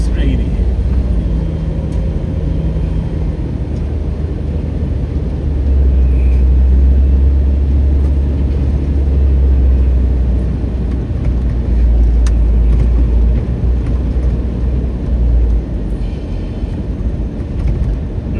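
Steady low road rumble and tire drone from a car heading onto the freeway near Youngstown, continuous and loud throughout with no breaks.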